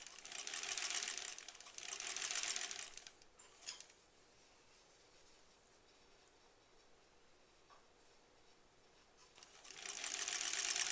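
A sewing machine stitching granny-square quilt pieces runs in two fast, steady bursts, pauses quietly for several seconds with a faint click, then starts running again near the end, close by.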